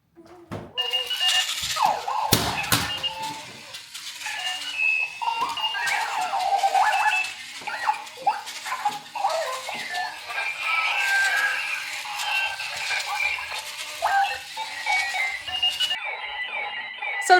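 A Clocky wheeled alarm clock beeps in rapid chirping bursts, mixed with clunks and rattling as it rolls around on a hard surface.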